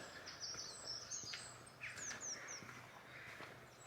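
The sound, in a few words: birds singing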